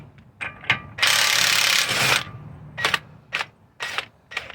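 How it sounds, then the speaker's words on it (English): A ratchet works on the 32mm front axle nuts of a Hyundai Santa Fe, with a sustained loud burst of rapid clicking followed by several shorter ratcheting bursts, close up and without talk. "Now taking out the 32mm axle nuts here"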